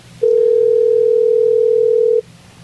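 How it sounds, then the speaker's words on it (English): Steady telephone dial tone, a single continuous pitch that sounds for about two seconds while a call is being placed, loud and alone over faint room noise. "All right, let's call Dan back"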